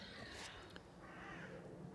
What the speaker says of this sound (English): Crows are very noisy today.